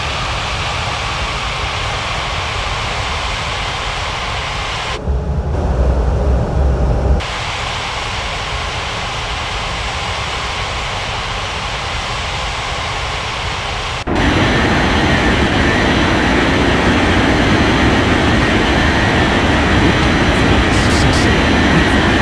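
Airplane taking off in an air traffic control video game, a loud steady engine roar with a brief lull and then a swelling, fuller roar as the aircraft powers up.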